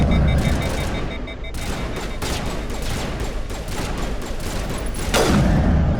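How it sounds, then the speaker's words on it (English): Sustained gunfire in Mass Effect Legendary Edition: dense, continuous automatic shooting with rapid overlapping reports and a heavier burst near the end, loud and steady throughout. "Some bad shooting."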